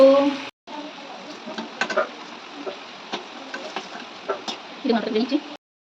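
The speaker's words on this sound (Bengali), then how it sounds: "আর এই দেখুন আলুটা আমার ভাজা হয়ে গেছে।" Potatoes frying in oil in a home kitchen pan: a soft sizzle with scattered clicks and scrapes of stirring, heard under a person talking, cutting out briefly near the start.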